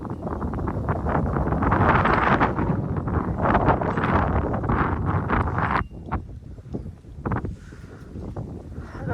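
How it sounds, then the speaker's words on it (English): Strong wind gusting during a North Texas winter storm with a -16°F wind chill, loud buffeting and rushing against the microphone that eases briefly before picking up again. "The wind is pretty high."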